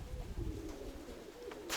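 Pigeon cooing, low soft calls repeating through a steady outdoor hum, fairly faint and continuous across the short stretch with a brief brighter rustle near the end.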